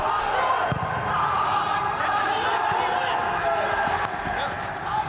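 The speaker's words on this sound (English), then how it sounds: "you can hear the shouts from the players and the backroom staff of both sides" Players and backroom staff of both sides shout across an empty stadium during a German third-division match, Magdeburg against Dresden, voices echoing steadily with scattered thuds of play and no crowd noise.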